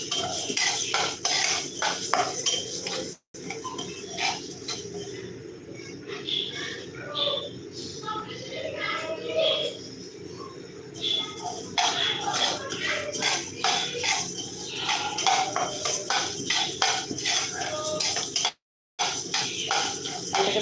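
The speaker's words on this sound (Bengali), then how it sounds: "ভালো করে ভেজে নিচ্ছি আর ফ্লেম এখন পুরো হাই ফ্লেমেই দিয়েছি দিয়ে ভেজে নিচ্ছি ডালটা" Dal is dry-roasted in a pan over high flame for a Bengali dal. A utensil stirs and scrapes it in a continuous clattering, shuffling rhythm while someone talks over it.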